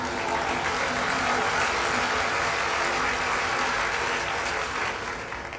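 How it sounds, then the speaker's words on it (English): Audience at an off-grid economy talk claps loudly and continuously, a thick sustained roar of many hands that holds steady before easing off slightly at the end. "you can clap for that"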